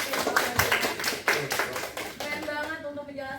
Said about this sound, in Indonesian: kita beri tepuk tangan buat kelompok 1